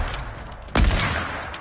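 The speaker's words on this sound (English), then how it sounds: "Stop fucking shooting each other." A single sharp burst of gunfire in a building-and-shooting video game, close and loud, with a rumbling tail that lingers after the shot.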